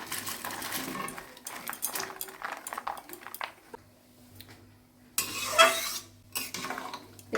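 Chopped banana flower is tipped into water boiling in a wok for a vegetarian mochar ghonto: clattering pan and stirring noises, a quieter pause, then a loud burst of splashing and bubbling near the end.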